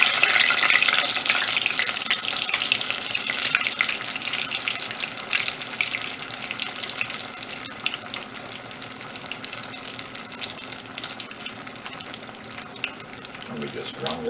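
Guyanese egg balls frying in hot oil: a steady, dense crackling sizzle that continues throughout and fades slightly, with no talk over it.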